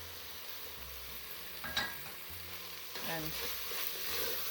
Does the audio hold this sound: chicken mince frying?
yes